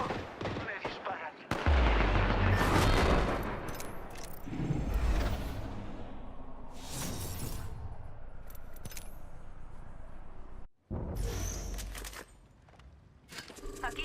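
Bursts of video game gunfire aimed at the player, with loud rapid shots and heavier booming volleys scattered across the fight, broken by brief lulls and one sudden cut to silence, with occasional voices mixed in.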